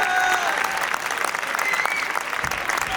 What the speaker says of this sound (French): Je vous dis qu'on l'applaudit bien fort après, s'il vous plaît.